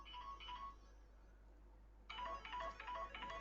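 A phone ringtone sounds in short electronic bursts during a break in conversation, fairly soft, with a pause and then a second, louder stretch of repeated rings.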